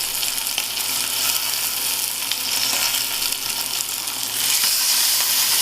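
A leg of lamb tied with butcher's twine sizzles and crackles steadily as it browns in a hot pan, a loud, dense, continuous hiss heard up close with no voices.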